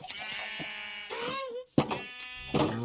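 Sheep bleat in the Minecraft video game, several wavering, nasal calls in quick succession, fairly close and clear with short pauses between them.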